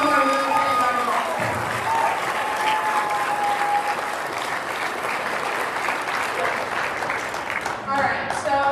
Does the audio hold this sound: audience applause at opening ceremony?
yes